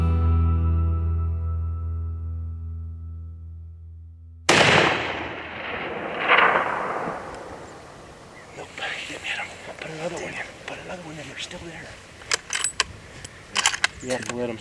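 A rifle shot at a mule deer buck on a New Mexico hunt cracks suddenly after a sustained tonal hum, followed by a rolling echo and then faint rustling and scattered clicks in the open.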